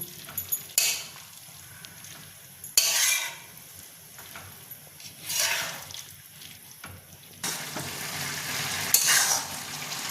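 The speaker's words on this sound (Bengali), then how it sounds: "আমি জল দিলাম, খানিকটা নাড়িয়ে নেব।" Cabbage curry being stirred in a pan after water has gone in, with several separate bursts of scraping and sizzling that swell and fade between quieter stretches of simmering.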